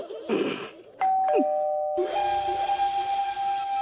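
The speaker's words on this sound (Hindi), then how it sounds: "तुम्हें कितनी बार बोला है कि दरवाजे की घंटी ठीक करा लो।" A doorbell sounds inside a house in a Hindi TV comedy: a loud electronic chime with several ringing tones, then a sustained buzzing ring that carries on to the end.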